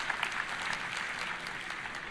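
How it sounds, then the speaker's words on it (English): An audience at the Roblox RDC developer conference applauds, with dense, continuous clapping from many hands that holds steady throughout. "Today, yeah, you can applaud."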